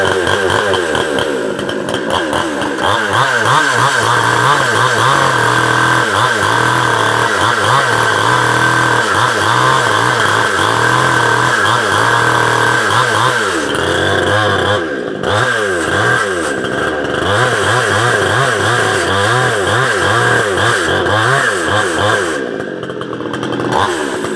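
A nearby engine revs hard again and again, pitch climbing and falling in repeated surges over a constant loud idle roar.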